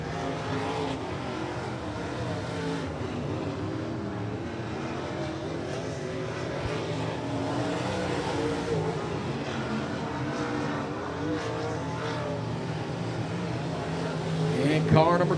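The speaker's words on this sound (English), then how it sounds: "the next group of three cars getting ready to make their way to the speedway." Hobby stock race cars drone steadily at a speedway during weekly division qualifying, heard from a distance with a continuous engine roar that swells near the end, and an announcer talking over it.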